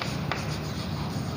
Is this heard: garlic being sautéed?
no